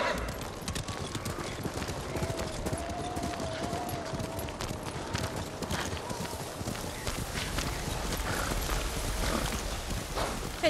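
A horse gallops at a steady, rapid rhythm through the whole stretch in the Ghost of Tsushima video game as snow falls more heavily, its hoofbeats clear against a dense, busy game soundscape.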